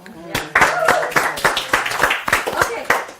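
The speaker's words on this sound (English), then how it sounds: "This person deserves a huge round of applause" A round of applause at a real estate investing seminar on lease options: a small group claps in uneven bursts, close and fairly loud, with talking running underneath.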